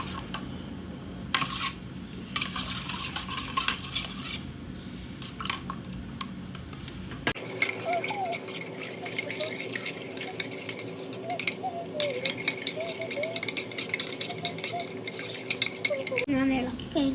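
Chili mixture stirred in a pot, with scraping and clinking of a utensil against the metal, soft wet squishing and occasional sizzle, the texture changing partway through.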